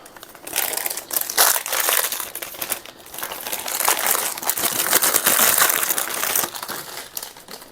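Wrappers crinkle and crush steadily as small wrapped items are unwrapped for cookie dough, a close, continuous rustling that swells and eases for several seconds with no talking.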